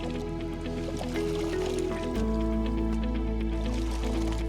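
A water sampling tube is dipped repeatedly into the Mississippi River, giving soft wet squishes, drips and trickles, fairly quiet and without talk.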